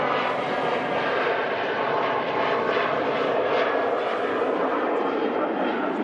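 Broad, steady roar of a Ryanair airliner departing Manchester Airport, a sustained engine rumble heard from a distance that holds level throughout without breaks.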